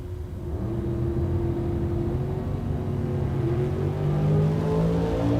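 A drag race car at the West Coast Bracket Races Southwest Showdown in Tucson roars with a loud, sustained engine drone that swells toward the end, heard alone without voices.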